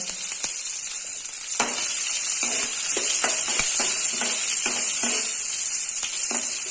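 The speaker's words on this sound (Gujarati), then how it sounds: "તો તેલ ગરમ થઈ જાય એટલે આપણે પેલા અડધી ચમચી રાઈ, અડધી ચમચી જીરું અને 2 ચપટી જેટલી હિંગ એડ કરીશું" Mustard seeds, cumin and asafoetida sizzling in hot oil, a steady bright fizz with scattered crackling pops as the seeds burst, close and fairly loud, with no talking.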